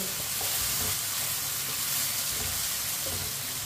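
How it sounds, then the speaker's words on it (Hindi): Onions fry in a pan, making a dense, steady sizzle that runs unbroken and fairly loud from start to finish. "प्याज को अच्छी तरह 2-3 मिनट के लिए पका लेंगे।"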